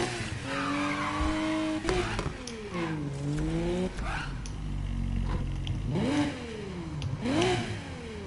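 A car engine revs hard with rising and falling pitch sweeps, accelerating and easing off repeatedly, loud and close, with a hint of tire noise and no talking over it.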